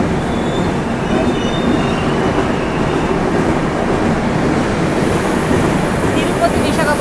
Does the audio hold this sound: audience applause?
no